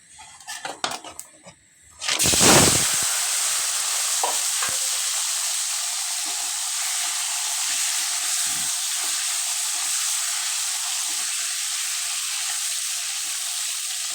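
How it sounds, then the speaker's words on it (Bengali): Rohu fish heads dropped into hot oil in a pan, a few handling knocks and then a sudden loud burst of sizzling that settles into a steady, strong hiss of frying, close and without talk. "মাছের মাথাগুলো ভেজে নিচ্ছি আমি"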